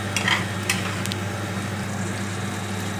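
Prawns frying in hot oil give a steady close sizzle with a low hum beneath, as they are stirred and lifted out, with a few brief scraping clicks near the start and no talk.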